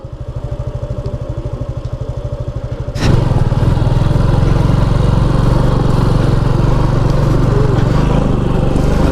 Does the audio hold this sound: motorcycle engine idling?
yes